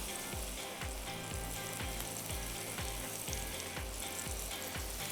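Spiced chicken thigh pieces sizzle steadily in a pan, pressed flat to cook, with a constant fizzing hiss broken by regular soft knocks roughly every half second, close and fairly quiet, no voices.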